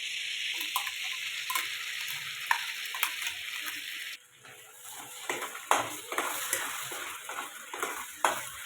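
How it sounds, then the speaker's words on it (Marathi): Onion, cashew, ginger and garlic purée sautéing in butter and oil for butter paneer masala, a soft hiss under repeated light spatula taps and scrapes against the pan, close by, with no talking. "तर आता ही प्युरी छानपैकी अशी परतून घ्यायची."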